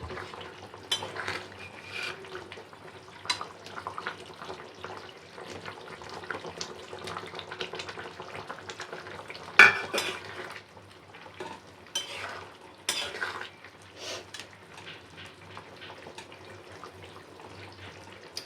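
Fried prawns being added to simmering potol and potato curry in a pot, with wet stirring, splashing and the clink of a spoon against the pot, close and moderately loud in uneven bursts.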